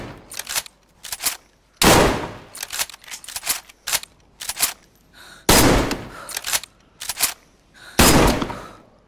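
Gunfire from a slightly damaged gun in the video game DayZ, a series of sharp loud shots in irregular bursts with short gaps, some single and some doubled.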